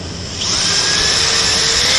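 A power drill with hammer mode engaged spins up and drills steadily, giving a loud continuous high whine over a rough rattling buzz that holds after a brief ramp-up.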